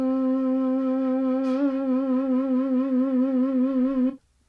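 A sampled flute in Logic holds a single sustained note with a wavering LFO pitch vibrato for about four seconds, then cuts off cleanly, playing alone with no talking.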